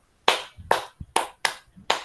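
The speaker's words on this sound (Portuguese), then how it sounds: "Palmas." Hand clapping in an arts lesson comes as five or six sharp, separate claps at an even, unhurried pace. The claps are close and distinct, with quiet gaps between them and no talking.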